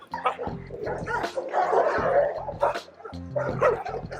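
A police dog barks repeatedly in short, loud bursts during a tense standoff, with some yips mixed in and shouting voices around it.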